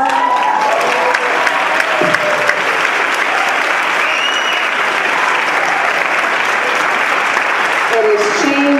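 Loud, sustained applause from the audience at a food conference panel, dense clapping filling the room with a few voices heard at the edges.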